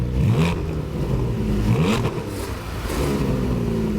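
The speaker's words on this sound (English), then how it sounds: "And the all-new exhaust system sounds glorious." A 2020 Porsche Cayman GT4 flat-six engine and exhaust rev in repeated rising sweeps, close and loud, with a mechanical whir between pulls.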